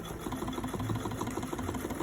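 A sewing machine runs steadily while stitching the curved front seam of a fabric face mask, a continuous close whirring hum with a fast, even needle rhythm and no pauses.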